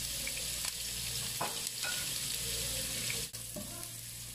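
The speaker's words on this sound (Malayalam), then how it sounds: "നമ്മൾക്ക് ചതച്ച് വെച്ച ഉള്ളി വെളുത്തുള്ളി ഇട്ട് കൊടുക്കാം." Crushed onion, garlic and curry leaves sizzle in hot coconut oil in a flat pan while ladies' finger fry is made. A close, steady hiss is heard with a few sharp clinks and bursts, no talking.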